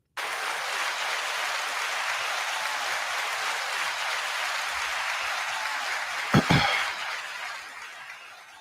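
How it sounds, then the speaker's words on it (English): An audience at a live podcast taping gives a sustained, even round of applause that swells briefly near the end with a couple of sharp louder claps, then fades away. "Thank you so much for your applause"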